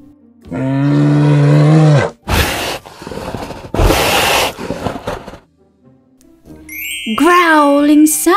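A polar bear growl sound effect for a children's read-aloud: deep, drawn-out tonal roars, loud and close, broken by noisy rumbling bursts, then a shorter rising growl at the end.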